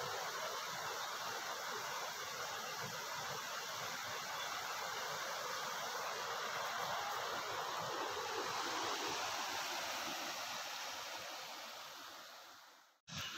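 The Rangeet river rushes in a steady, broad wash of flowing water, unbroken and close, before cutting off abruptly at the end.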